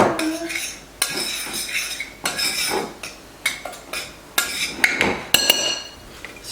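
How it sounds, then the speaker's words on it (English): A spoon stirring garlic powder in a bowl gives a run of sharp, repeated metallic clinks and scrapes in quick, uneven bursts, close up and loud, with no voices. "And then we're going to just stir this up in our bowl."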